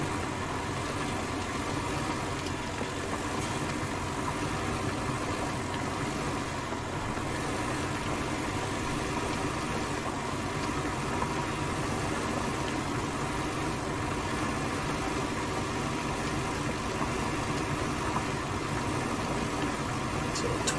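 A small Zetor Proxima tractor from Farming Simulator 19 pulls a plough across light ground, its engine droning at a steady, even pitch with no break throughout.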